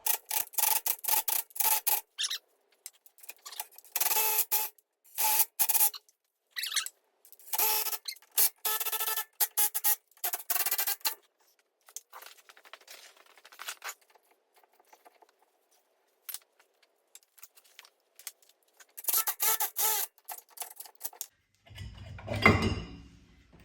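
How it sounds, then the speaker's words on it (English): Brake drum being pulled off a Geo Tracker axle by tightening two 8mm bolts, heard as long stretches of close, rapid scraping and ratcheting patter broken by pauses, ending in a louder, deeper clunk as the drum comes loose. "that was getting the drum off"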